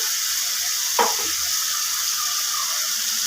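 Food frying in a pan for coconut vegetable bagara rice, with a steady, close hiss and a brief clatter near the start.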